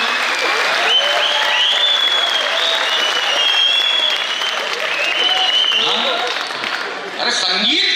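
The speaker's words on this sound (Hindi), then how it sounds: "ताली।" An audience at a trilingual poetry gathering claps loudly and continuously, a dense close wash of applause that swells and stays strong for several seconds with a brief dip near the end; voices can be heard within the crowd.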